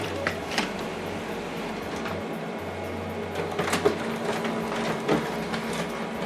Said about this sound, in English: So it's printing on both sides.